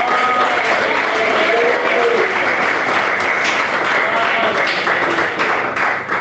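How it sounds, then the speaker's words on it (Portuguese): A church congregation claps loudly and steadily throughout, a dense, continuous wash of applause that does not let up from start to finish. "Bate palmas."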